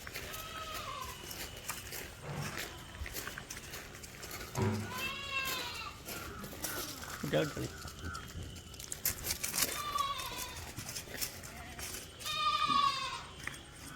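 Malabari goats, a nanny with her young kids, bleat repeatedly in a farm pen in Malappuram, several wavering calls near and far over faint rustling and background chatter.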